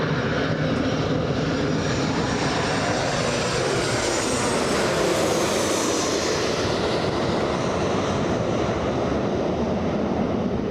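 A Boeing airliner in 100 years of Boeing livery at Los Angeles International Airport gives off a steady, loud jet roar with a rising whine midway, heard close and without voices.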